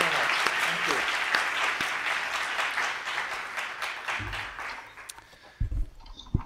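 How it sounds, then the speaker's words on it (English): A conference crowd at LibertyCon gives a sustained round of applause for the closing speaker, dense and steady clapping that thins and tapers off near the end with a few scattered claps and room noise. "A round of applause for our last speaker."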